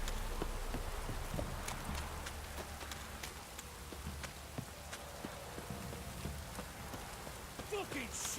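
In The Witcher 3: Wild Hunt, rain keeps falling in a continuous hiss of drops, joined by faint horse hoof clops and small incidental game noises, holding a steady, even level with no speech over it.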